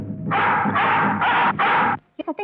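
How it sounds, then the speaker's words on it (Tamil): A hunting dog let loose after a deer gives four loud, close barks in quick succession, followed by a few short, higher yelps and whimpers. "சத்தம் கேக்குதுல்ல? யாரோ வேட்டை நாயை விட்டுருக்காங்க."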